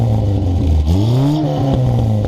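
A Renault Trafic engine fitted with a stainless steel exhaust revs hard and close, the note dipping and then climbing in a loud, throaty rise before settling back.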